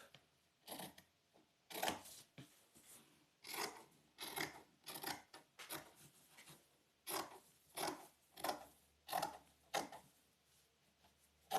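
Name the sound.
cutting fabric for a washable face mask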